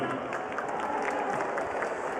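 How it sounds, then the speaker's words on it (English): Boxing arena crowd applauds both boxers after the match, a steady wash of clapping and cheering at moderate distance, with faint talk mixed in. "please put a big round of applause together for both of the boxers in the center of the ring"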